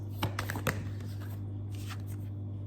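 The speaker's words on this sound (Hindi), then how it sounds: "मैं ये कार्ड्स यहाँ हटा देती हूँ" Tarot cards are handled and slid aside during a reading, making a few quick, close shuffling and flicking sounds over a low hum.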